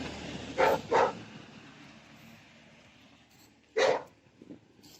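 Dogs barking outdoors during a night walk: two quick barks, a pause, then a single bark, moderately near over a quiet, faintly rumbling background.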